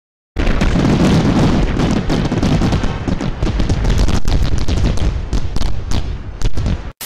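A dense, loud barrage of crackling fireworks explosions bursts continuously for several seconds, with rapid overlapping booms and pops and no voices.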